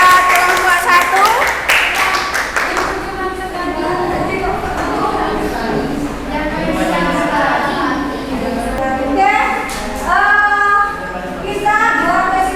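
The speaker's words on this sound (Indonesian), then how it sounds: "Tepuk tangan buat kelompok 1." A classroom audience of students claps for a presenting group, with a burst of clapping at the start that continues more loosely beneath overlapping chatter and children's voices.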